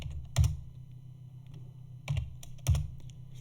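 Keystrokes on a computer keyboard while a terminal install command is entered, soft quiet tapping with a few heavier key presses standing out, close and alone.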